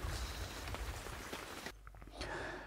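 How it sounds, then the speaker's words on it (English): Heavy rain pouring onto a fishing bivvy in winter, a soft continuous patter with scattered drops, faint and close, briefly dipping before resuming. "it's still pouring down with rain"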